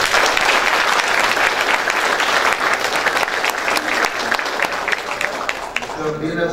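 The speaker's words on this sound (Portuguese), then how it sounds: "Uma salva de palmas" An event audience gives a doctor a round of applause, dense steady clapping at full volume that thins slightly as a voice begins speaking at the end.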